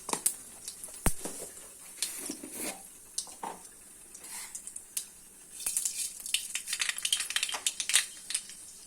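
Cumin and mustard seeds crackle and sizzle in hot oil for a tadka, with scattered sharp pops and spits over a steady frying hiss. The sound grows busier and denser toward the end.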